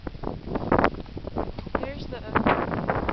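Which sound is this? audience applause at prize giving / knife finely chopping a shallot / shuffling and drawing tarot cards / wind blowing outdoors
wind blowing outdoors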